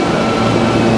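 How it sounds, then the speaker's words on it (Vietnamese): A New York subway train near Times Square gives a brief, loud, continuous rumble and roar close by, heard on its own without talking. "Bạn coi tàu điện ngầm nè."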